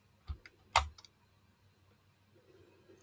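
Short burst of clicks on a computer keyboard, a few crisp keystrokes in quick succession followed by a quiet pause with soft background hum.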